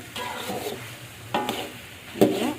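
Green unripe tomatoes frying in a pan, a soft steady sizzle with a few sharper scraping stirs and clinks of a utensil against the pan.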